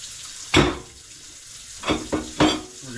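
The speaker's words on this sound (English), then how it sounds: "We're going to scrub them down both sides." Wet scrubbing and splashing as a muskrat pelt is washed in water to rinse off salt before tanning; three or four separate swishing strokes, close and moderately loud, with quiet gaps between them.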